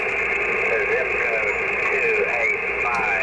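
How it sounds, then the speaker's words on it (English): Continuous static from an Icom M-802 marine radio with the noise blanker off fills the clip, a constant hiss with faint wavering, garbled tones weaving through it. "That's the noise blanker off."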